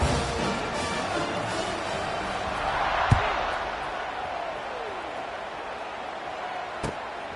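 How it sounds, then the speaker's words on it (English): A football stadium crowd buzzes steadily after a touchdown, a broad wash of distant cheering and chatter with a couple of sharp thuds rising briefly above it. "this crowd is buzzing after that last score"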